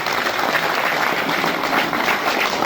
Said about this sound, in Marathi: पुरुषांसाठी छोट्या टाळ्या आणि महिलांसाठी मोठ्या टाळ्या वाजल्या